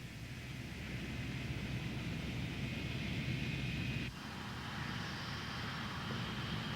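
Jumbo jet engines roar in a steady, broad wash of noise with a high whine on top, and the tone shifts abruptly partway through.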